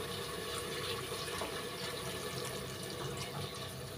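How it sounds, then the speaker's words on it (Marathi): Hot water poured into a cooking pot, a steady continuous splashing rush lasting several seconds, close and even in level with no talk over it. "तर आता हे मी गरम पाणी याच्यामध्ये टाकते आहे।"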